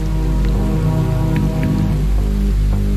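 Steady heavy rain pours in the Pamali horror video game, a dense continuous hiss of drops on surfaces under a low droning tone, with no talk.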